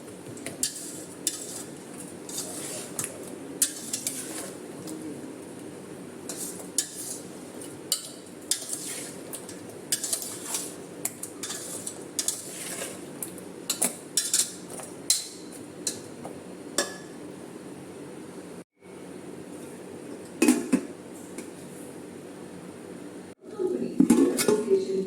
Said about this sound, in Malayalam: ഇനി നമുക്ക് ഈ പച്ചമുളക് ഇതിൽ ചേർത്ത് കൊടുക്കാം. നന്നായിട്ടൊന്ന് മിക്സ് ചെയ്ത് കൊടുക്കാം.